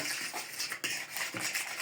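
Continuous scraping and clinking of a utensil mixing cookie dough in a bowl, close and steady with slight rhythmic swells.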